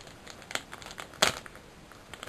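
Plastic packaging around a G.I. Joe action figure is cut open, giving faint, sparse crinkles and snips with one sharper crackle midway, close by and quiet.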